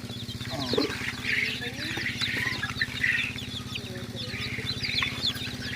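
Chicks with crooked legs peep in a cluster of high, rapid chirps, continuous and close, over a low droning background.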